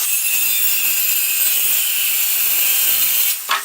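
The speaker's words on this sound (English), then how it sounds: "I'm just going to use the old circular saw" A circular saw rips through a long purpleheart wood board with a loud, continuous high-pitched cutting whine held close, then the blade winds down briefly at the end.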